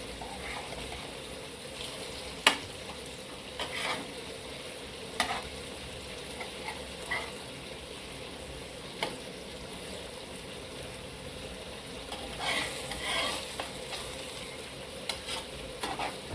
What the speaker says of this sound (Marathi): आता आपण आपले मासे चांगले तळून झाले भाजून मस्त कुरकुरी